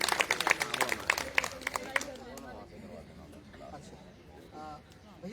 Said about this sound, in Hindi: जो हमारे लोग हैं सबके लिए तालियां